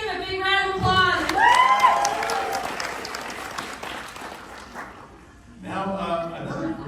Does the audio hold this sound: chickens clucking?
no